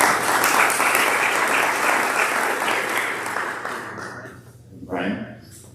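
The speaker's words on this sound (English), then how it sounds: "please give him a round of applause." Audience applause at a South Florida healthcare education event on green hospitals, dense and steady for about four seconds, then thinning out and fading, with a brief voice near the end.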